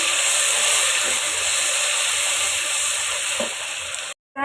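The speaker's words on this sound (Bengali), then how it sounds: "টমেটো কুচি অ্যাড করে দিয়ে দিলাম" Chopped tomato sizzling with golden fried onions in a pan, a loud continuous close frying hiss with a faint stir or two, then a brief cut to silence near the end.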